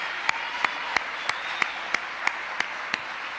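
A church congregation claps in steady unison, about ten sharp, evenly spaced hand claps in a row, moderately loud over a low background hum.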